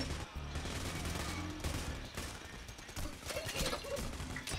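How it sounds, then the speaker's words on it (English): Dense, continuous gunfire from a Payday: The Heist counterfeit mission, rapid shots and bursts crackling loudly throughout with crashing impacts mixed in. "I'm being fucking shot at by I don't even know what."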